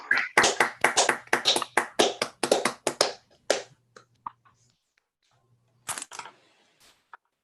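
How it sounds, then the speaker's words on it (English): A remote audience, unmuted for applause after a mathematics lecture on integrable probability, claps in brisk, close bursts for about three seconds. The clapping then thins to a few scattered claps and near silence. "we're gonna unmute everybody and give a big round of applause to thanking for Ivan"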